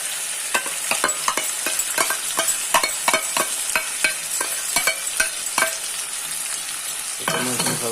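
Onion, ginger, garlic, tomato and chili paste for an Assamese chicken curry sizzle steadily in hot oil, broken up by close, regular scrapes and clinks of a spoon stirring the pan, with no talking.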